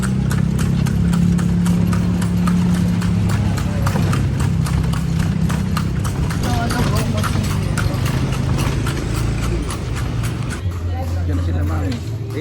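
Horse hooves clip-clop at a steady, quick pace as a brown and white horse pulls a carriage through Vigan, with a loud engine rumbling nearby and people talking over it.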